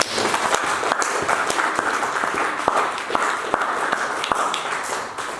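A church congregation breaks into steady, loud applause, dense overlapping claps sustained throughout with a few sharper individual claps standing out and faint voices underneath.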